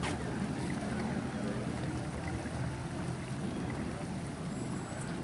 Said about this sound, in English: There's nothing like the gentle gurgle of these inboard engines.